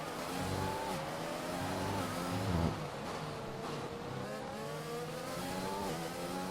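Formula 1 race cars in the video game F1 2021 at the Mexico round, a continuous high-pitched engine whine that climbs through gear changes under acceleration and slipstream, with other cars' engines layered in and no talking.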